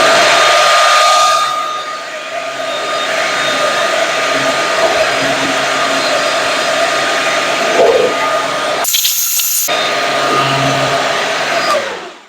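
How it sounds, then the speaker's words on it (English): A leaf blower drying a freshly washed car, a loud continuous close whine and rush of air that holds steady for most of the stretch, with a short shift in tone near the end. "So one thing, you can leaf blow."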